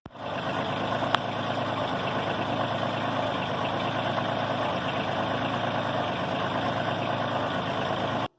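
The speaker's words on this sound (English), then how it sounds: "when you've got the implement up like this, you could actually hear the pump." A Kioti CK2610 tractor idling with its implement raised, the hydraulic pump adding a steady, even drone under the engine, constant and close for several seconds with no talk.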